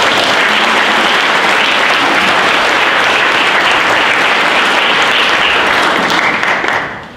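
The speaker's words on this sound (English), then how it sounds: "So I want to give them a round of applause too as well" Sustained loud applause from an audience at a Salute to the Armed Forces event, a dense steady wash of clapping that holds for several seconds and then begins to taper at the very end.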